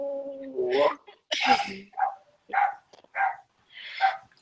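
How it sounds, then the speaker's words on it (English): A dog barking in a string of short, sharp barks with gaps between them, fairly close, following a brief stretch of a human voice at the start. "Whose dog is barking?"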